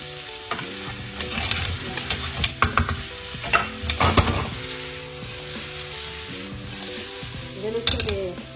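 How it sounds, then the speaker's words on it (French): Garlic sizzles in hot oil in a pan for a seafood stew, with a steady frying hiss and repeated utensil scrapes and stirs against the pan, close and fairly loud throughout. "je vais incorporer l'ail. Je vais la cuire."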